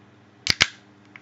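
A can of peach Berliner Weisse beer cracks open with two sharp, close clicks in quick succession, followed by a brief soft hiss as the tab releases.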